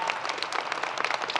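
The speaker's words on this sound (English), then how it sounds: "please join me one more time in giving a round of applause for this incredible group" Applause from a conference audience, a dense, steady patter of many hands clapping at once, moderately loud and sustained without a pause.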